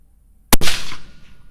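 A single sharp .223 precision rifle shot firing a 77 grain TMK load, a loud close crack followed by a brief rolling echo that fades over about a second.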